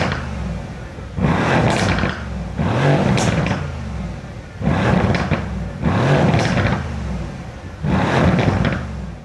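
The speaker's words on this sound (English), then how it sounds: "And that is just idle and revving on standstill." Mercedes-AMG C63 S Edition 1 with a 4-litre engine, idling at standstill then revving hard in five loud, close bursts, each roar rising and falling back to a steady idle between.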